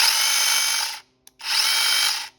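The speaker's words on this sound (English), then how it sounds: "the chainsaw will work" A mini electric chainsaw runs in two loud, steady bursts of about a second each, separated by a brief silent gap with a small click, then cuts off.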